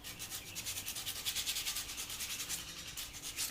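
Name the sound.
hand sanding a bow tip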